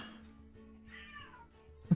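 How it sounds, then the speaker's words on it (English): A cat meows amid quiet room tone at a tabletop game session, one short clear call near the end rising clearly above the background. "There's a cat."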